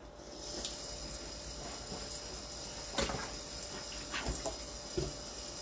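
Apple cider vinegar poured over a large raw picnic pork shoulder being marinated for pernil makes a faint, continuous liquid trickle with a few soft clinks.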